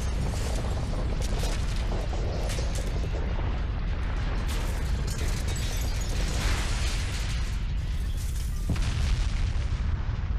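Planets being destroyed in the video game Asura's Wrath, a continuous roar of booming explosions and rumbling blasts at loud, steady intensity with scattered sharp bursts.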